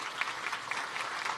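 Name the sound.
round of applause at a town hall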